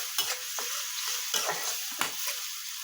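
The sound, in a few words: ginger paste frying and being stirred in pan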